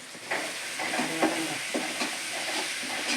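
Ginger garlic paste, made from garlic cloves and a piece of ginger, sautés in a pan for squid thokku, giving a loud, close sizzle with rhythmic stirring and scraping.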